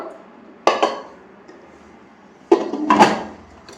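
A new biryani pot and a small frying pan being handled, giving two separate bursts of metallic clanks and clatter against a quiet background.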